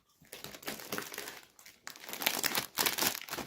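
Cheese-flavoured Lulu chips snack bag crinkling as it is torn open: close, dense bursts of crackling plastic come in several waves and grow louder toward the end, with no voices.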